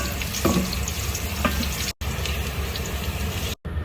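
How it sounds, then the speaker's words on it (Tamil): Garlic fries in hot oil in a pan, giving a steady close sizzle and bubbling with a couple of faint clinks, and the sound is briefly cut twice. "அதில் ஆயில், garlic, இது மாதிரி கோல்டன் ப்ரௌனாக ஆகணும்."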